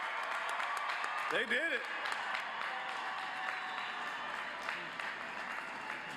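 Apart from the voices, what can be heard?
applause for graduates at commencement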